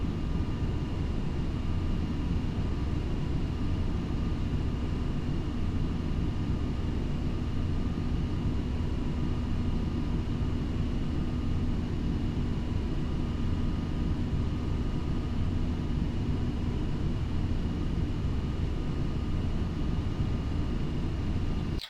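Boeing 737-800 in Flight Simulator X gives a steady, even jet engine roar and cabin rumble, constant and unbroken for the whole stretch, with no voices.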